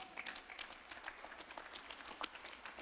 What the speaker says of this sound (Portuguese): Dá uma salva de palmas ao Senhor.